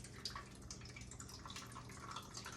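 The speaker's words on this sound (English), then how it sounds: "Yeah, that's still dripping a lot." Whey drips faintly and steadily from freshly made mozzarella curds left to drain, small wet patters close by in a quiet kitchen with no talk.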